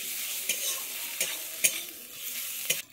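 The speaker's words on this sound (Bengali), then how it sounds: "দিয়ে আমি এটাকে ভালোভাবে নেড়ে নিচ্ছি।" A spoon stirs fish curry masala with coriander powder in a pan, soft sizzling frying throughout with a few distinct scraping strokes against the pan, close and quiet.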